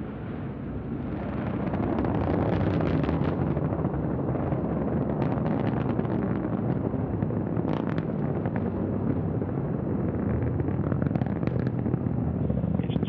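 An Antares rocket lifts off carrying a Cygnus cargo spacecraft to the International Space Station, its first-stage engines at full thrust. A loud, continuous, rumbling roar builds within the first two seconds and holds steady throughout, with no voices.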